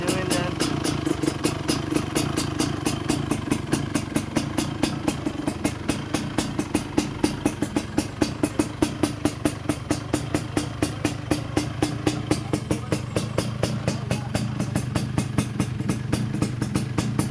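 A Yamaha DT 175 trail bike engine fitted with a Vforce reed valve runs steadily and close, its fast, even exhaust pulses holding a constant idle-like rhythm with no voices over it.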